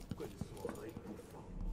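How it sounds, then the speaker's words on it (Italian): High heels running in Dishonored 2, a quick series of light clicking footsteps, faint and fairly close, with a voice speaking over them. "Non è un suono buffo, sono tacchi che corrono."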